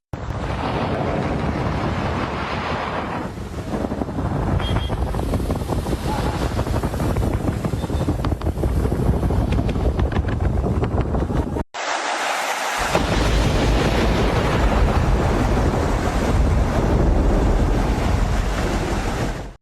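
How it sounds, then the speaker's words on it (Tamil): Heavy rain and gusting wind lash Pamban bridge at Rameswaram in darkness, a loud, unbroken roar with wind buffeting the microphone, briefly cut and then resuming just as strong. "ராமேஸ்வரம் அடுத்த பாம்பன் பாலத்தில் இருள் சூழ்ந்து கனமழை பெய்து வருவதனால்"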